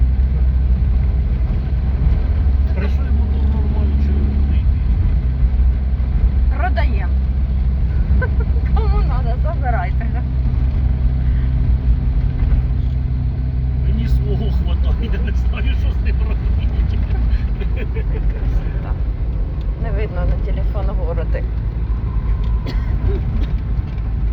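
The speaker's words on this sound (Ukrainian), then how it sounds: "що от Жигуль йде під гору четвертою передачею" A Zhiguli car labours uphill in fourth gear, its engine a steady low drone that fills the whole stretch while a voice talks over it.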